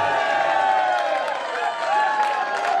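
At a cricket festival presentation ceremony, a crowd applauds with dense, continuous clapping and some cheering that stays fairly even in level throughout, heard from within the gathering.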